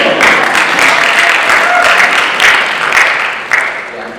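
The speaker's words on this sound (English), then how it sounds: "you guys can clap for that." Audience applause fills a school STEM capstone presentation, a dense, steady wash of many hands clapping together that holds throughout and tapers only slightly near the end.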